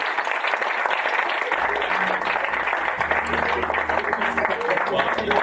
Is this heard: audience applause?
yes